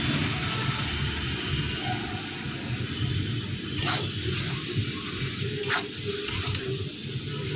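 Egg chow mein stirred and fried in a pan with soy sauce, a steady close sizzle with scraping stir strokes throughout and a few sharper clatters in the second half, no voices.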